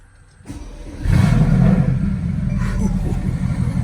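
A 2016 Mercedes GT bi-turbo with 503 HP fires up and revs, the engine note swelling into a loud, deep roar that settles into a strong steady rumble close by.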